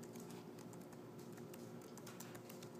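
Rapid, uneven clicking of keys on a computer keyboard while a script is written, very quiet and steady for a few seconds over a low hum, with no voices.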